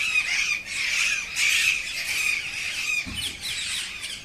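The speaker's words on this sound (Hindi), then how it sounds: "बहुत से तोते आते हैं, ये पेड़ पर देख लीजिए कितने तोते बैठे हुए हैं।" Many parrots perched in a tree squawk and screech continuously in a shrill, overlapping chorus, fairly close, with no one talking.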